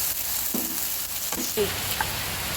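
Finely chopped ginger drops into hot oil already holding a pinch of cumin, setting off a steady close sizzle with a few brief stirring scrapes, no voices.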